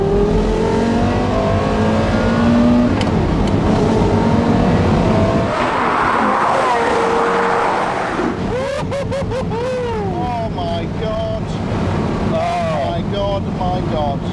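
Porsche Carrera GT engine pulling hard under heavy throttle on a clear road, a loud rising roar with wind noise, then upshifts and renewed climbing revs; someone speaks briefly over it.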